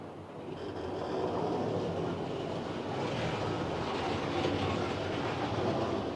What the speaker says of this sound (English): It sounds like it's having an awful lot of wheel slip.